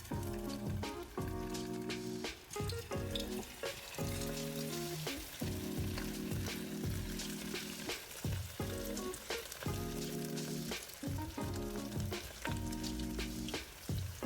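Coated paneer frying in hot oil gives a steady crackling sizzle, partly covered by background music playing throughout.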